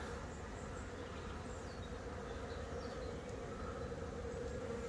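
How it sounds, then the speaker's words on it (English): A steady, dense insect drone of many bees humming together at a hive in autumn, continuous and fairly close, with no voices over it. "You can see the bees."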